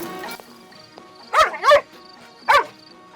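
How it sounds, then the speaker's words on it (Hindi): A dog barks repeatedly at one spot in a house at night, three sharp woofs in two close bursts and then one more, over a quiet hum. "ये कुत्ता एक जगह देखकर बार बार क्यों भौंक रहा है?"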